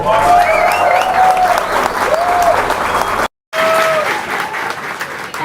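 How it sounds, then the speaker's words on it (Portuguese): An audience breaks into loud, sustained applause for a politician, dense clapping with whistles rising above it, cut off by a brief silent gap before the clapping resumes. "eu peço uma salva de palmas para ela"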